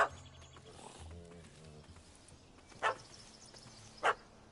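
A dog barks in a fantasy role-playing game, two short loud barks a second apart near the end over a low ambient bed with faint animal growls early on.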